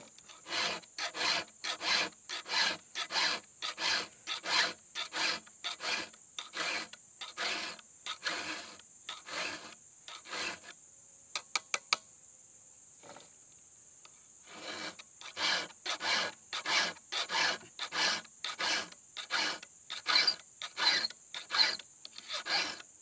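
A chainsaw chain is sharpened by hand with a file, giving steady, close rasping strokes in an even rhythm, with a brief pause and a few light clicks midway before the filing resumes.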